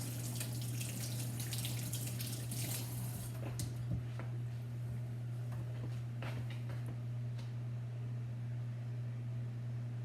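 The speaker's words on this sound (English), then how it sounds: "I'm going to go wash my hands again" Tap water runs steadily into a sink while hands are washed, a constant hiss with scattered splashes and clinks, set against a low steady hum in a home kitchen.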